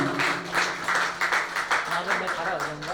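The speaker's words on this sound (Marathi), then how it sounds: "सो अफानसाठी पण जरा जोरदार टाळी." An audience at a company's 101st-anniversary celebration breaks into brisk, steady applause, a dense patter of many hands clapping at moderate distance with a voice faintly underneath.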